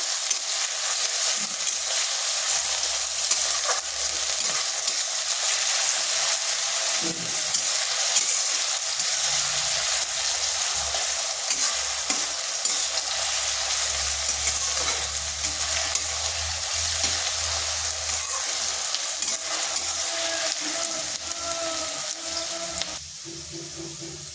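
Onions frying in a pan for a bean mash dish, a steady broadband sizzle with occasional stirring scrapes, close and continuous throughout with no talking.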